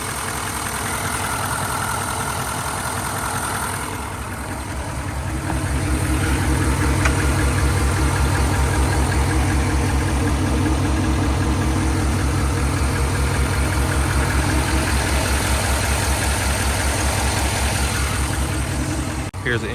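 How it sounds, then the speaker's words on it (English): A 2016 Nissan Titan XD Pro-4X with a deleted, tuned Cummins turbo diesel idles with a steady, rhythmic low rumble, close and continuous, getting louder partway through. "Here's the engine."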